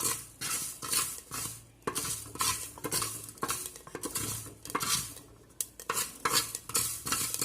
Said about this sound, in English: You can see that the Fenugreek seeds are also spluttering.